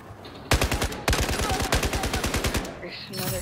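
Rapid bursts of assault rifle fire in the shooter game Battlefield 4, loud, evenly spaced automatic shots in two long strings with a brief break, followed by a short trailing burst.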